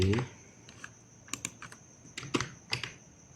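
Computer keyboard being typed on, including presses of Enter and a Ctrl V paste, heard as a few sparse, sharp clicks spread across the moment, close and fairly quiet.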